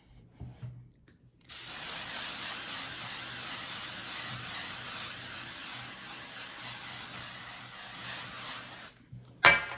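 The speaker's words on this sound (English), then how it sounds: "dry shampoo, spray it all over" A steady dry shampoo aerosol hiss sprays continuously over a synthetic wig for several seconds, close and fairly loud, then cuts off, followed by a small clatter.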